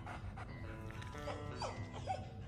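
A dog pants steadily in the video game Die Young, with quick breathy rhythmic puffs running through the whole stretch under a low ambient game backdrop.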